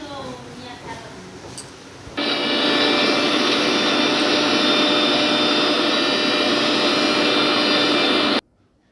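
An electric grinder blends coriander leaves into a paste in a village kitchen; after a few seconds of voice, a loud, steady whirring roar runs for about six seconds, then cuts off abruptly.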